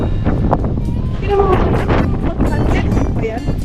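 Strong wind buffets the microphone at a mountain viewdeck on Mt. Banahaw, a loud rumbling roar with gusts rising and falling throughout, while a person speaks over it.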